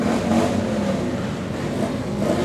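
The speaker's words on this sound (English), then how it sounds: "they've got some motorcycles" Motorcycles rev in an Independence Day parade in Oceanside, a steady, loud engine roar that dominates throughout with no talk over it.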